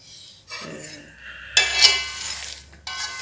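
Stirring thick peanut paste in a cooking pot, with scraping and clinking of a utensil against the pot in short uneven strokes, close and fairly quiet.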